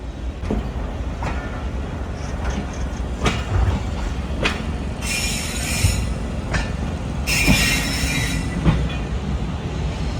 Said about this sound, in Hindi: ये ट्रेन काफ़ी स्लो अप्रोच बना रही है Sindh university Jamshoro railway station पर।